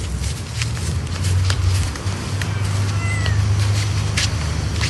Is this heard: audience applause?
no